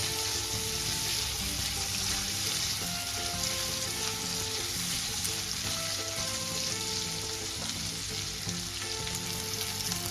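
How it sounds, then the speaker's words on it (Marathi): Vegetables with sweet corn frying in oil in a pan, a dense, steady sizzle that stays even and close, with faint stirring scrapes underneath and no voices. "फ्राय करून घ्यायचं आहे तेलामध्ये"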